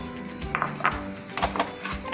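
Moong dal halwa premix being roasted and stirred in a pan, with soft scraping strokes and light clinks of a spoon against metal over a faint steady sizzle, close and moderately loud.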